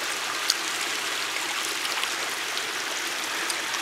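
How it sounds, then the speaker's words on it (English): Cascading water flows down a fish ladder outdoors, a steady, loud hissing rush with faint splashes and no voices. "Now if you look back up to the fish ladder, you'll see the cascading water that flows."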